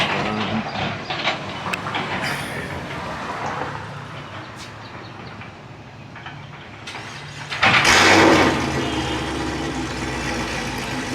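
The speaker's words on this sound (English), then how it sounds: "I want to get the startup on this one." A car that has just had its O2 sensor replaced and a new battery fitted starts up. Quieter ambient noise gives way to a sudden loud burst as the engine catches, then it settles into a steady idle.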